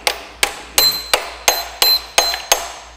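Eight sharp metallic hammer blows on engine parts at a steady, fairly quick rhythm, each with a brief ringing clang, loud and close with no talking.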